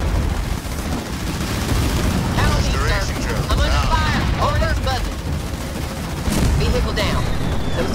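Battle in the real-time strategy game Halo Wars, with dense overlapping gunfire and booming explosions rumbling continuously, while a voice talks over the chaos.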